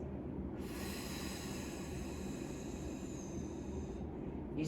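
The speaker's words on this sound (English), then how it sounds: "So I'm breathing out on the downward phase." A long, exaggerated exhale during a postpartum core-strengthening exercise, heard as a steady close breathy hiss that lasts about four seconds and then stops.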